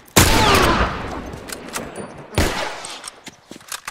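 Gunshots in The Last of Us ring out in two loud, sharp blasts with a pause between them, each trailing off in a short echo, followed by softer scuffling sounds.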